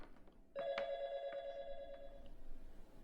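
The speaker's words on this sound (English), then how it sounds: "the ring of the phone stopped his descent" A telephone rings with a sustained electronic bell tone of about two seconds, loud and close, with no talking.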